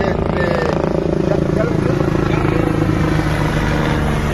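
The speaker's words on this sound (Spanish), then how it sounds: "un helicóptero de la Comisión Federal de Electricidad está en este momento sobrevolando Puerto Ángel." A Comisión Federal de Electricidad helicopter flies over Puerto Ángel on the Oaxaca coast after the storm Agatha, its steady throbbing rotor drone running continuously beneath a person speaking.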